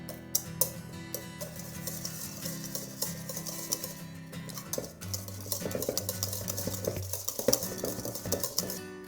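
Egg yolks for deviled eggs are mixed in a bowl, producing steady scraping and clinking of a utensil against the bowl, close and rhythmic, with faint music underneath and no talk.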